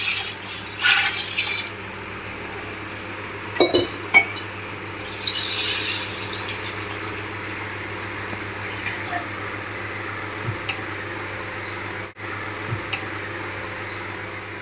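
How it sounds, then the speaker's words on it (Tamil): Water poured into a quarter-cup measure while preparing rice for chicken biryani in a home kitchen, a soft splashing trickle with light glassy clinks, fairly close and alone without talk. "1 கப் அரிசிக்கு 1/4 கப் தண்ணி ஊற்றிக்கிறேன்."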